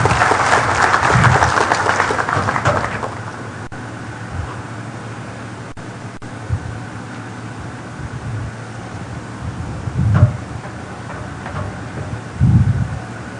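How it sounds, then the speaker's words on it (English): Applause from a seminar audience at the close of a presentation, a broad rustling wash of clapping that is fullest in the first few seconds, then thins and fades, leaving faint room noise with a few low thumps. "Can we give another round of applause?"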